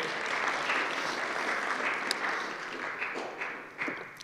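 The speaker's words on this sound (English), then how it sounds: "You can clap for that." A church congregation applauds steadily after the pastor's sermon prompt, a dense wash of many hands clapping at moderate distance for several seconds, with no clear talk over it.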